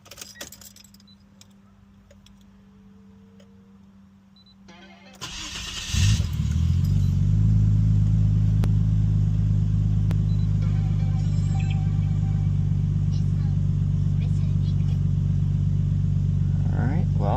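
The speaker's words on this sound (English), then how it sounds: "Now let's start the car, make sure it runs fine" Keys jingle faintly in a quiet space, then a Nissan Stagea engine cranks and catches after an air intake and MAF service, settling into a loud, steady idle rumble that continues to the end.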